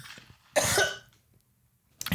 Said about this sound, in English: I can't have them know I was coughing